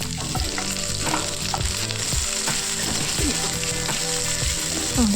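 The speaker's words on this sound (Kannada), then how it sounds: "ಈರುಳ್ಳಿ ಹಾಕೋತಾ ಇದ್ದೀನಿ ಇದನ್ನು ಅಷ್ಟೇ ಸ್ವಲ್ಪ ಲೈಟಾಗಿ ಫ್ರೈ ಆಗಲಿ" Onions frying in a pan for paneer gravy, a loud close sizzle layered with repeated scraping and clinking of a spatula stirring against the pan in an irregular rhythm, no voices.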